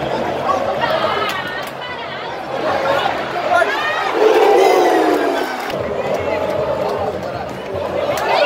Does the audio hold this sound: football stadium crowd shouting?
yes